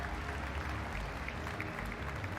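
A large audience at the CitizenCon 2018 event applauds steadily, the clapping heard faint and far off as a dense, even patter throughout.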